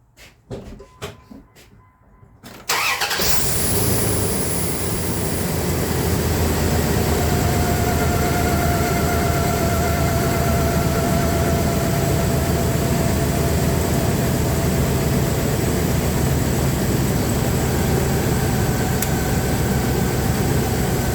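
An engine fires up after a few seconds of quiet clicking and settles into a steady, loud, droning run with a low rumble, a possible misfire present but not clearly distinct.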